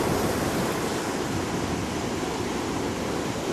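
Sea waves washing against the shore on a fairly flat, calm day, a steady, close, broadband rush of surf with no breaks or voices.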